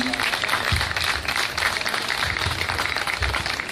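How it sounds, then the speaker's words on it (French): Loud applause from the audience at a lingerie fashion show evening, dense clapping throughout with crowd noise and a voice briefly heard beneath it. "que je vous demande d'applaudir avec beaucoup de plaisir"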